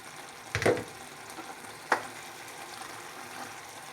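Ratatouille vegetables seasoned with black pepper and salt sizzle in a pan as they are stirred, with a couple of sharp scraping knocks of the spoon over a steady soft frying hiss.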